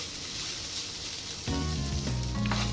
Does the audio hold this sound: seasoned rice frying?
yes